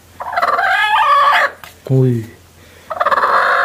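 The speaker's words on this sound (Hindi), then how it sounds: "ये बैठी है मुर्गी" A brooding hen sitting on eight eggs makes loud, harsh, agitated clucks and squawks in close bursts, with brief pauses between them.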